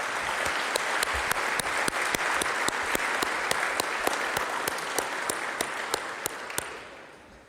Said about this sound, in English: So please give another round of applause to them.